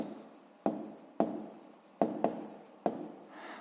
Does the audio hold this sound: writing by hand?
yes